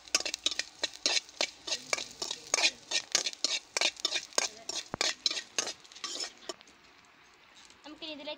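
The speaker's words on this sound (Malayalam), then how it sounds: "നമുക്കിത് ഇളക്കി കൊടുക്കാം." A spoon stirs food in a cooking pot with a quick run of loud scraping, clinking strokes against the pot, then slows and fades near the end.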